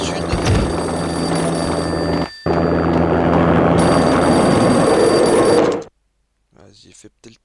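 An old-style telephone rings steadily in the Max Payne video game, a bright, continuous warbling ring with one brief break that stops suddenly near the end, followed by faint murmuring.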